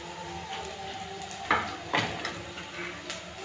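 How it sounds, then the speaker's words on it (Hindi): Onions and chilies fry in a kadai with a low, steady sizzle, broken by a couple of brief scraping stirs near the middle, close and fairly quiet. "अभी देखिए कढ़ाई में प्याज और मिर्चा डाल दिए हैं।"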